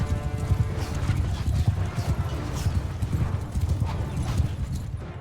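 Cavalry horses gallop in a Mount & Blade 2 Bannerlord battle, loud, close hoofbeats drumming in rapid overlapping clusters throughout, with battle noise mixed in.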